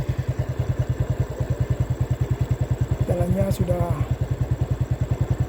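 A motorcycle engine putters in a steady, close rhythmic idle along a rain-slicked road heading toward Belitang, with a brief horn-like tone and a few spoken words over it.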